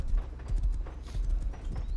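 Horse hooves clip-clop at a steady trotting rhythm as a pony is ridden in the video game Rust, loud and close, with no talking.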